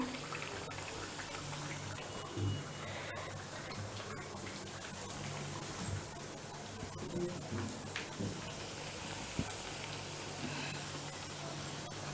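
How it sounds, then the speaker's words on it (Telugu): Puris for sweet peneelu fry in hot oil, a steady close broadband sizzle and bubbling that runs continuously with little change in level. "మన పూరీలను నూనెలో వేసేసుకుందాము"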